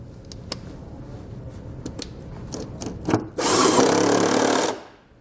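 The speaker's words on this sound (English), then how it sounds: "We'll then retighten down both of those body stud bolts that we took loose." Power tool running on a truck body stud bolt with a socket, a short burst of about a second of whirring after a few light clicks and taps, fairly close with no talk.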